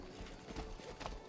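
Horse hooves clip-clop faintly in the video game Pathfinder: Wrath of the Righteous, a few quick, soft steps in a brief run.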